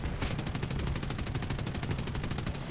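Aircraft guns on a P-61 in the War Thunder game, firing a rapid, steady automatic burst of evenly spaced shots that runs through the whole stretch, loud and close with no talk over it.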